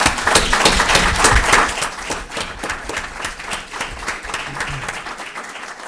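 An audience at a State of the City address applauds the city leadership team, with crisp, distinct claps at first that thin into scattered clapping by the end.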